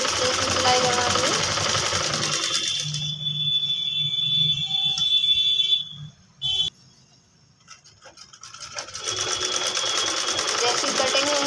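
Close, loud electric sewing machine whirring continuously as it stitches a ladies' coat collar, pausing briefly mid-run before starting up again at full speed.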